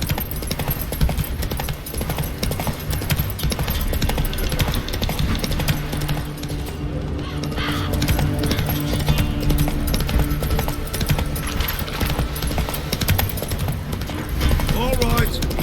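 In The Witcher 3: Wild Hunt, a horse named Roach clip-clops along with steady hoof beats, set under game music, ambient noise and occasional talking voices that run throughout.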